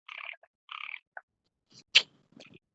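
Frogs croaking at night during frog hunting in a rice field area, a few short raspy croaks in quick bursts with pauses between, fairly near and alone in a quiet setting.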